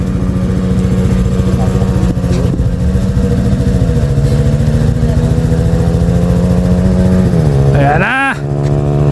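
A Yamaha R15 motorcycle runs loud and close on a nature road in Sta. Cruz, Zambales, with a steady high engine drone that shifts pitch as it passes, ending in a brief rising rev.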